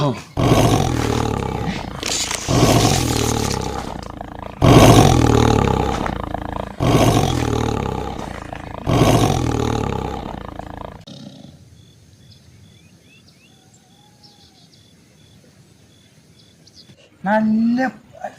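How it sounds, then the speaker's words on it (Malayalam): A leopard roars in repeated deep, loud rasping bursts, five in a row, then quiet with faint birds and a brief closing roar. "പുലിയുടെ സൗണ്ടാണ് കേൾക്കണേ."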